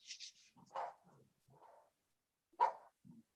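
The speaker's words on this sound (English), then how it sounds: "Sorry about my dogs." An elderly blind pug barks in short, faint yips and woofs indoors, scattered and irregular with quiet gaps, a couple of sharper barks standing out near the end.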